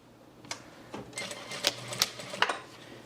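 A sewing machine runs stitches along the top edge of a pair of pants, starting and finishing with a back stitch, in a few short separate bursts with clicking pauses between them.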